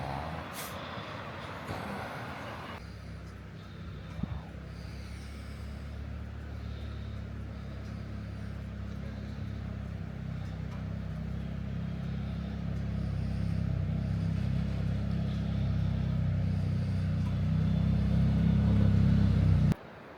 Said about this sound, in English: Bambi had to put it in four-wheel drive to get over that big rock